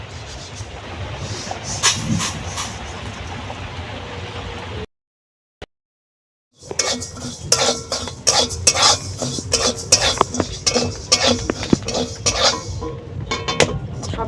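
Roasted rice is stirred and scraped in a pan with a spoon, rapid clinking and rattling strokes over a soft sizzle, broken by a brief silent gap before the stirring resumes more busily.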